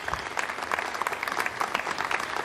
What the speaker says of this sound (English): Now we have some applause there